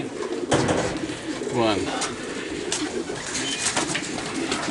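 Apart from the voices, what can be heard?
racing pigeons cooing in the loft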